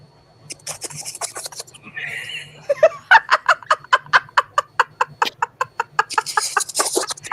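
A person imitates the frantic screeching birds of Hitchcock's The Birds, first with squawks, then with a rapid, rhythmic series of loud clucking, gobbling calls that end in chattering cries.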